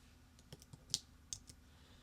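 Soft clicks of keys being typed on a computer keyboard at a desk, a handful of light, uneven taps, close but quiet, with no talking.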